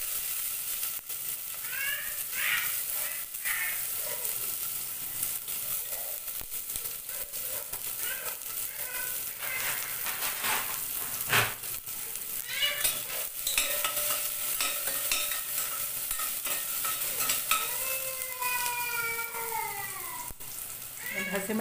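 Chopped onion goes into ghee in a pan and fries with a steady, soft sizzle and occasional stirring scrapes, while faint cat-like meows sound in the background.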